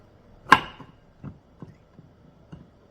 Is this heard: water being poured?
no